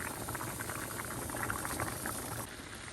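White rice boiling in water in a pot on the stove, a steady, dense bubbling and simmering that stays even and close throughout, with no talk.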